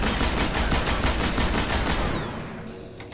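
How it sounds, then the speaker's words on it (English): Rapid, continuous automatic gunfire from the 77 Wizard gun in a shooting video game, loud and dense for about two seconds before cutting off and fading out. "Only going to be 13 shots, but you'll be able to see how much the gun rises and if it goes left or right."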